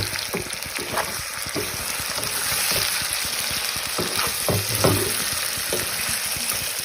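Red chili and spices are stirred in a frying pan, giving a steady close sizzle with repeated scraping spatula strokes and a few louder knocks against the pan.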